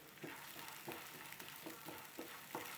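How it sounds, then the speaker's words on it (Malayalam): Sprouted green gram sautéing in olive oil in a pan, a steady close sizzle with soft rhythmic stirring scrapes about every half second, no voices. "കുറച്ച് അതിൽ നമ്മൾ മുളപ്പിച്ച പയർ വേവിക്കാനല്ല, വെറുതെ ഒന്ന് വഴറ്റി കൊടുക്കാനാണ്."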